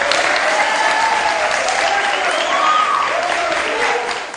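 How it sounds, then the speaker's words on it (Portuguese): An audience claps together in sustained, dense applause that holds steady and then begins to fade near the end. "uma salva de palmas"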